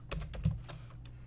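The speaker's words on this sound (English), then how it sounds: "As soon as I type the first line and press enter" Typing on a computer keyboard while writing code, a short run of close, crisp key clicks with one heavier keystroke, alone without talk.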